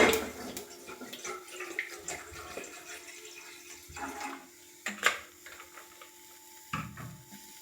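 Water splashes into a cooking pot on a stove for coffee, with soft uneven pouring and a few sharp clanks of the pot against a quiet background.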